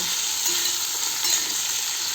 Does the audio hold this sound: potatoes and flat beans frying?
yes